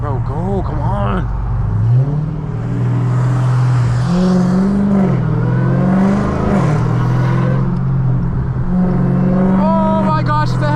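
A 1000-horsepower Dodge Hellcat cuts through rush-hour traffic, its engine loud and close, revving up and easing off in repeated swells with voices heard briefly over it.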